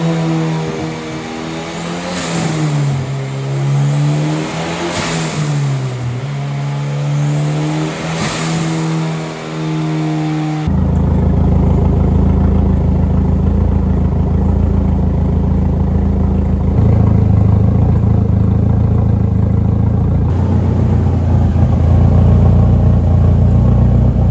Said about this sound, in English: we just finished the dyno run with the A-cam